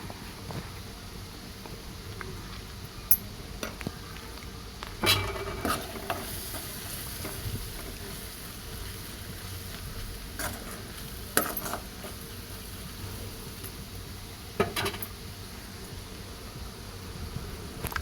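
Ground coriander and other spices stirred in hot oil in a pan for paneer masala curry, a faint steady sizzle with soft scraping stir strokes and occasional sharp clicks, no voices.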